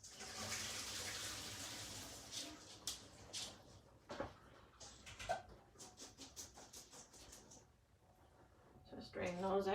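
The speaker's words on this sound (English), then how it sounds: "I'm just going to strain the sweet potatoes." Boiled sweet potatoes being strained and drained at a kitchen sink, water splashing and pattering in bursts with clatter, faint voices in the background.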